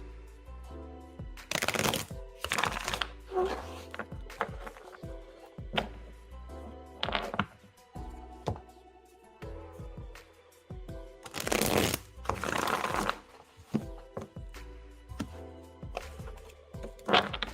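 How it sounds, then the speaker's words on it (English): Tarot cards are shuffled by hand in repeated bursts of crisp riffling and soft slaps, close and fairly quiet, separated by short gaps with no talking. "Shuffling for James's last question"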